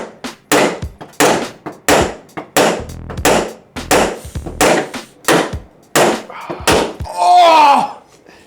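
A hammer bangs against the metal of a wrecked Mini car again and again in a steady rhythm, about a dozen sharp close strikes, ending in a harsher scraping burst.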